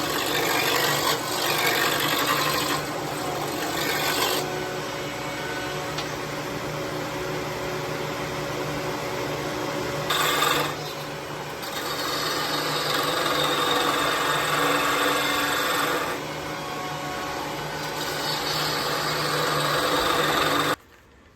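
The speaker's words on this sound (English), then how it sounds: "I'm going to round it off with a roughing gouge, and then start shaping with my bowl gouge." A wood lathe spins a 4x4 block while a roughing gouge rounds it off, giving a steady loud whirring hum with coarse scraping texture that shifts in intensity as the cut progresses, continuous for about twenty seconds.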